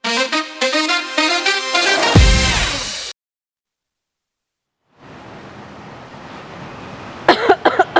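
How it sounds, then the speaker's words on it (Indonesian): A live Indonesian morning news broadcast, where a news anchor gives a sharp cough on air that cuts off the talk before a brief silence and a stretch of low background hiss. "Ini lagi tayang dia malah batuk."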